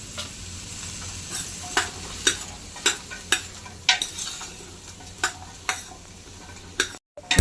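Green ground paste and turmeric sautéing in a pan for wedding-style masala rice, a steady sizzle under regular spoon scrapes and taps against the pan, close and fairly loud, with no voices.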